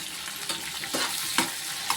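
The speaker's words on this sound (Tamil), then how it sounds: "வெங்காயமும் வெள்ளைப்பூடும் நல்லா வதங்கிக்கிட்டு இருக்கு." Onions and garlic fry in a pan for brinjal chutney, a steady close sizzle with occasional stirring scrapes and clinks.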